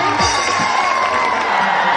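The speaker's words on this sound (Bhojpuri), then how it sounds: "जोरदार ताली बजाइए भाइयों" A crowd at a Bhojpuri festival claps and cheers, a loud continuous roar of applause with shouts mixed in across the whole moment.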